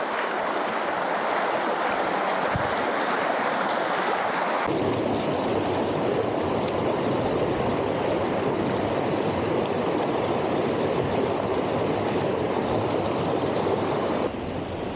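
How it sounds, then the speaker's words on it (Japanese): A mountain stream tumbles through a series of cascading waterfalls, making a dense, continuous rushing roar, loud and steady for the whole stretch with no talking. "こっから滝が連続するエリア、"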